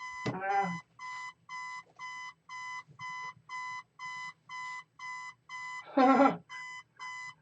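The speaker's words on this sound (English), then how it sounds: "My alarm's going off." An alarm clock rings in a fast series of regular electronic beeps, steady and fairly loud, with two short bursts of a voice or sound briefly breaking in.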